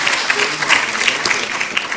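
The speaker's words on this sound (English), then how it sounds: "Please give him a round of applause for being here." Audience applause for Vice President Kashim Shettima, representing President Tinubu at the Northwest Peace and Security Summit in Katsina, a dense, steady crowd clapping that fills the hall loudly without pause.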